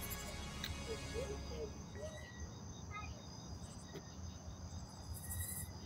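Crickets chirp steadily through a night-time outdoor scene, a dense and continuous insect chorus with a few faint higher calls scattered on top and no talking.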